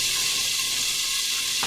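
Butter sizzling in a pot at the start of cooking rice, a steady close hiss and fine crackle that stays even throughout, with a faint knock near the end and no speech.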